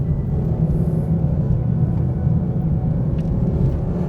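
A Mercedes SLS GT drives a lap with a steady, loud low engine rumble and road drone, close up and without talk.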